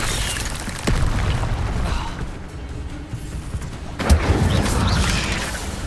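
A fire spell cast in the Hogwarts Legacy video game, a booming, whooshing burst that rises sharply around the four-second mark over a dense, continuous backdrop of rumbling combat noise, loud and close.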